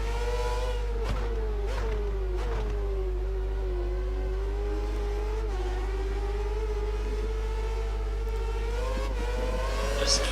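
An F1 car engine in F1 2013 racing at the Nürburgring drones continuously with a sustained high whine, the pitch wavering as the throttle is feathered and eased, close and loud the whole time with no talking.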